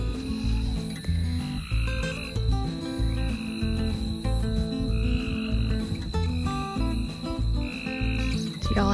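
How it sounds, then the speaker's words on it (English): Frogs croaking in a steady pulsing chorus at night on a Tennessee farm, a loud rhythmic layered drone with higher trills running continuously; no clear dog barks or wind stand out. "Y'all hear the frogs and the dogs barking and the wind."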